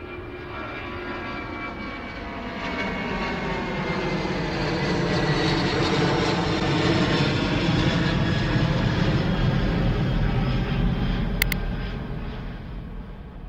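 Vistara Airways aircraft engine roaring steadily at Bangalore airport, a loud, continuous broadband drone that swells slightly in the middle and holds for the whole stretch with no talk.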